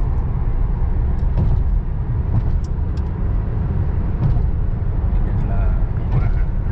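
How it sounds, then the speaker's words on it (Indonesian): Cars and buses pass along a road near Jamarat in Mina, a steady traffic rumble that carries throughout with faint voices in the background. "Itu Jamarat dari jarak jauh yang biasanya mobil melintas seperti itu. Mobil-mobil bis."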